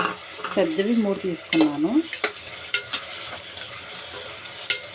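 Three large tomatoes go into a hot pan for tomato rice, giving a moderate sizzle with sharp scraping and clinking from a spoon stirring against the pan, while someone talks over it.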